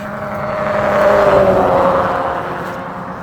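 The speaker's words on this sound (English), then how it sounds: "Wheel sounded out of balance. Front left one." A car with an out-of-balance front left wheel passes by a Florida roadside, rising to a loud, steady whirring drone with a faint rhythmic hum before fading away over a few seconds.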